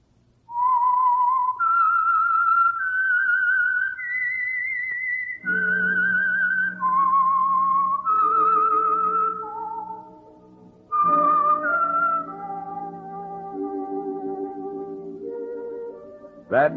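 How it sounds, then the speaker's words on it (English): The Whistler radio program's whistled theme: a melody of sustained, wavering notes rises and falls over about fifteen seconds, loud and close, with a soft accompaniment joining partway through. "That whistle is your signal"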